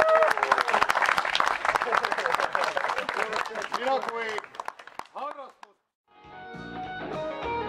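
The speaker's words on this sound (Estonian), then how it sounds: "aplausi!" Wedding guests at a party break into loud, dense clapping mixed with cheering voices, then the applause thins, breaks off briefly, and singing or music takes over at the end.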